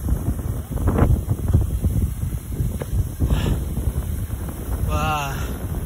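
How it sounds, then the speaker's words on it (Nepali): Strong wind gusts buffet the microphone on a mountain hiking trail in Seoraksan National Park, South Korea, rumbling unevenly throughout, with brief voices and a faint chirp near the end. "हावा चाहिँ एकदम बेसी चल्दो रहेछ"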